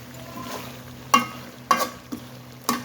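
Braised duck meat curry with bay leaves and garam masala is stirred in a pan as papaya is mixed in. About four sharp spatula scrapes and clacks stand over a low, steady background, close and moderately loud, with no talk.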